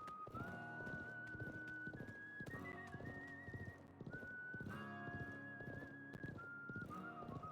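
Video game horse from the Wild West chapter of Live A Live, with clip-clopping hooves and a neigh over a whistled western melody and steady background music, loud and continuous.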